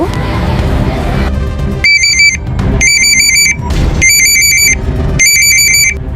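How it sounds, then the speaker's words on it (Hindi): A telephone rings loudly in repeated electronic trilling bursts, four rings in steady rhythm over a low rumbling background. "ये किसका फ़ोन है?"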